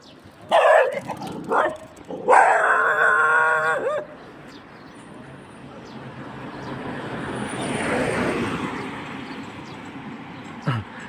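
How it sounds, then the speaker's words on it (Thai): A fierce dog barks several times in quick, loud bursts close by on a foggy road in Na Tan district, then falls quiet. A low, steady rumble of wind or engine noise and a brief thump follow. "หมาตัวนี้ดุสุนัขตัวนี้ดุนะครับ ต้องคอยระวังมันเดี๋ยว มันมาแอบกัดเรา"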